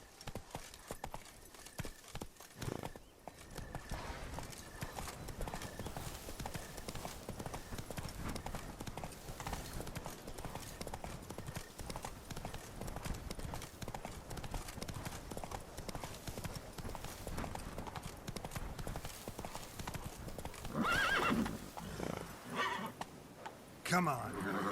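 Hoofbeats of a galloping horse in The Witcher 3 video game, a steady clip-clop rhythm running throughout with neighs and whinnies breaking through, over game ambience and occasional speech.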